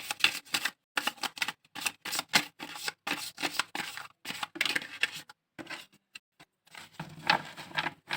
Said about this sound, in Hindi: जब मैं ये शफल करती हूँ ना, जो अलग से कार्ड गिर जाते हैं ना